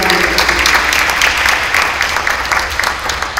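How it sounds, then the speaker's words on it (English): A round of applause for coaches at a college signing event, a dense crowd clapping steadily and loudly throughout, close and continuous. "So if we can give them a round of applause."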